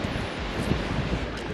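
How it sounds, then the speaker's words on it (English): Ocean surf at Streaky Bay on South Australia's Eyre Peninsula: a steady, dense wash of breaking waves mixed with strong wind buffeting the microphone, with no one speaking. "Pretty cool waves out there."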